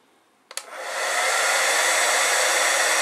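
A heat gun or hair dryer clicks on with a couple of switch clicks, then spins up into a steady loud blowing roar aimed at a Honda Magna low fuel sensor thermistor, continuing unbroken to the end.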